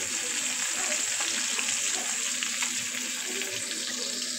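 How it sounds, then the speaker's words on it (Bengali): Fish sizzles and fries in a pan at home, a steady, close crackling hiss running unbroken for several seconds. "এই তো আমি মাছ ভাজতেছি।"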